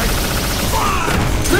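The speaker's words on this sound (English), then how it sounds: "It's the big one! Proton cannon!" Proton cannon firing in the fighting game Marvel vs. Capcom: Infinite, a loud, dense blast of rapid energy fire with crackling bursts packed into under two seconds.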